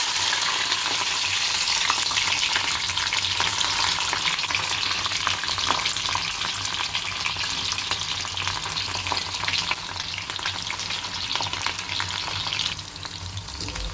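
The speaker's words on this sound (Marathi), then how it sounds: "आता आपण पहिले याच्यामध्ये शिमला मिर्च टाकणार आहे." Loud, steady sizzling of capsicum frying in hot oil, continuous throughout with no talking.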